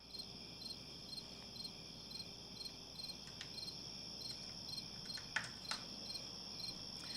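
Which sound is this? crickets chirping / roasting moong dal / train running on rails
crickets chirping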